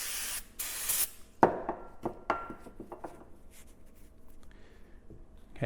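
Cleaner sprayed onto metal bolts gives two loud, hissing spray bursts up close, followed by a few sharp metallic knocks and light handling clatter, with no talking.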